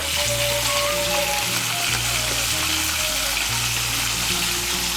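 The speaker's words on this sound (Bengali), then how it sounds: "এই তেলের মধ্যে ডিমগুলো ভেজে নেব।" Beaten eggs seasoned with salt and turmeric frying in hot oil for a Bengali rice and egg dish, a continuous close sizzle with a low background hum.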